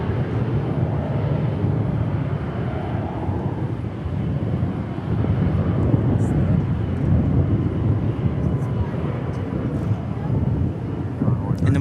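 A Viva airliner in special livery at DFW International Airport rumbles loudly in a steady jet roar, with wind buffeting the microphone and voices talking over it.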